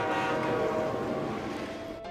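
A cartoon train runs along the track with a loud, continuous rumbling roar. A faint whistle-like tone rises through the noise before it cuts off abruptly.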